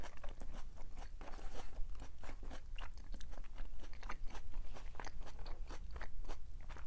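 Someone chewing and eating food up close, with repeated crunchy bites and mouth sounds in a steady rhythm, fairly quiet, with no talking.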